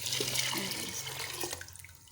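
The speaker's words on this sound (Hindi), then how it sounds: "दाल को मैंने प्रेशर के अंदर डाल दिया है। तो अब इसमें ऐड करते हैं पानी।" Water pours steadily into a pressure cooker holding whole masoor lentils, a continuous close splashing rush that tapers slightly toward the end, with no talking.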